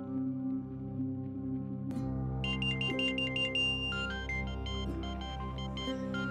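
A telephone rings with a bright, repeating electronic ringtone melody that comes in loud and close over a sustained low tonal background, with no one speaking.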